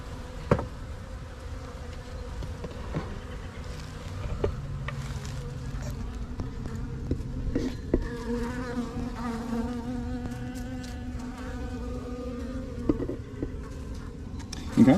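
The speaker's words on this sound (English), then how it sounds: "lots of bees." Dense buzzing of many honeybees from an open hive during a midwinter inspection fills the air, a close, continuous drone with individual wingbeats rising and passing near.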